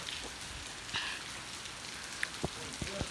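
Rain falls steadily outside as a faint, even patter, with a few sharper drips and knocks scattered near the end.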